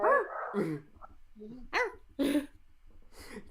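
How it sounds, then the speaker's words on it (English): The Annoying Dog from Undertale gives a series of short, sharp, close barks, about five yelps spaced irregularly with brief silent gaps between them. "Annoying dog. I'm sorry. King of the underground."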